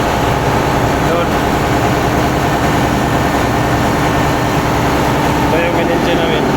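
A ship's engine runs in a small onboard engine room, a loud, constant low rumble and drone that fills the space without pause, with a voice faintly present over it.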